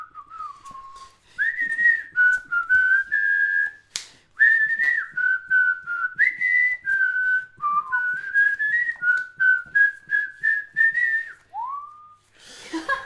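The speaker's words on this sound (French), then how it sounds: "c'est vrai qu'ils sifflent au début." Whistled melody at the start of a song during a Disney Villainous board game tournament match, a clear tuneful whistle carried through a long run of phrases, close and loud with no talking over it.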